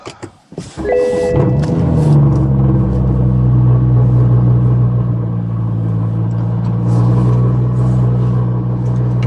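Rear-wheel-drive BMW 340i with a straight-piped exhaust starts up and drives, giving a loud, steady deep exhaust rumble from close by that holds throughout with slight swells, with no talk over it.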